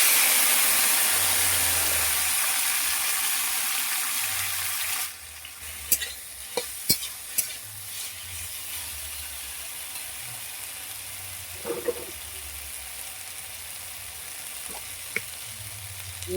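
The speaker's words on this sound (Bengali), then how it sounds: "চালতাটা এই তেলে আমি ভেজে নেব।" Elephant apple (chalta) fries in oil in a wok, starting with a loud, dense sizzle that settles into a quieter steady crackle after a few seconds, punctuated by occasional sharp clinks and scrapes of stirring.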